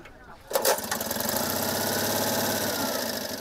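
An old Citroën 2CV engine starts with a burst, then settles into a steady, loud, chugging idle close by.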